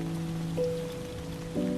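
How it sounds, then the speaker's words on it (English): Rainfall in the video game Lushfoil Photography Sim makes a soft continuous patter, quiet and even throughout, with humming tonal notes shifting underneath and no voices. "It's the rain."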